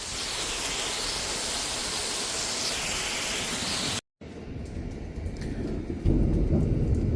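Steady rain outdoors with rolling thunder, a loud continuous hiss that cuts out briefly, then resumes more faintly before a deep thunder rumble swells near the end.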